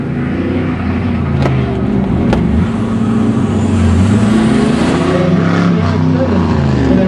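Autocross car driving a pylon course at a regional airport, engine note rising and falling steadily at mid distance beneath continuous announcer talk over a loudspeaker.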